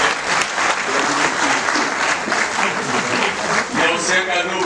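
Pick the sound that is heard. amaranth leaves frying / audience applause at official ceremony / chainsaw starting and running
audience applause at official ceremony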